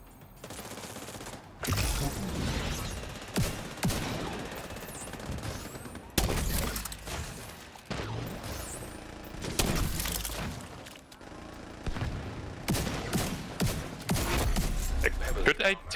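Video game mortar fire in a tank game: loud explosive blasts and cracking impacts come repeatedly at irregular intervals, some close and booming, some sharper, with a player talking between them.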